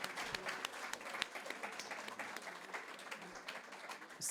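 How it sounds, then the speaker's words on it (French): Audience applause at a small speaker event, soft and fairly quiet, a continuous patter of clapping with a few louder individual claps. "vous pouvez l'applaudir"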